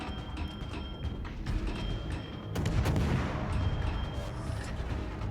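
Warship main guns firing at an enemy ship during a World of Warships naval battle, a heavy, rumbling salvo with booming reports over continuous low battle noise, loud and close.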